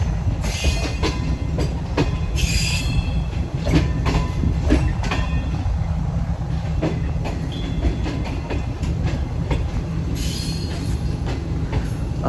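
Shalimar Express running from Lahore toward Multan, heard from aboard as a steady rumble with rhythmic clickety-clack of wheels and occasional high squeals from the rails.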